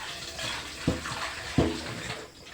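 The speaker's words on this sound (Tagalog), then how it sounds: "And then hugasan natin ulit." Running tap water splashes steadily as vegetables such as string beans, squash and eggplant are rinsed, with two sharper splashy bursts standing out near and alone.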